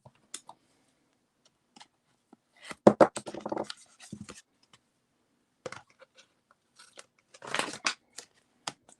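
Scissors cutting card paper in a quiet room, isolated snips followed by two dense bursts of rapid crisp cuts, close and clear with no talk.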